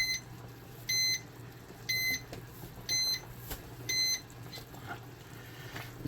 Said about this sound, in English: this timer is done in a couple of seconds